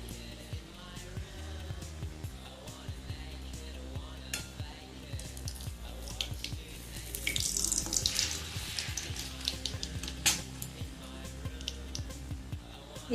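Water running or trickling into a pan while making sugar syrup for semolina malpua, a steady close splashing and gurgle that rises briefly in the middle, with faint kitchen clatter and no talk.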